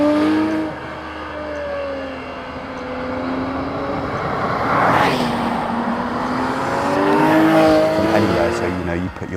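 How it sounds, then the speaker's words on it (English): A Ford RS race car engine rising in pitch as it accelerates, loud and sustained with a swelling roar midway, partly under someone talking. "you put your foot down on the accelerator and it bursts into life"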